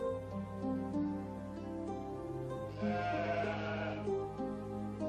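A cartoon sheep bleats over a busy, tonal music bed, its cry rising near the middle and holding steady throughout.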